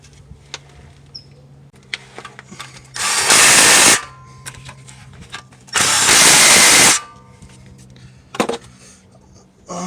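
A power tool tightens oil pan gasket bolts on a GM truck such as a Tahoe or Silverado, with two loud, close bursts of about a second each, separated by quieter clicks and handling noise.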